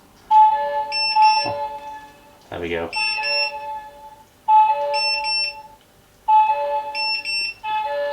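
Repeated high-pitched electronic beeping alarm from an Inkbird IBT-26S smart thermometer app and probe in regular bursts, with a brief spoken phrase between them.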